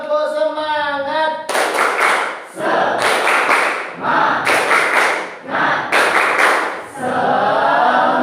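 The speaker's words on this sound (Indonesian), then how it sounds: "Tepuk semangat." Classroom of students doing a rhythmic spirit clap, bursts of sharp unison claps in repeated patterned groups separated by short pauses, with a voice calling or chanting in between.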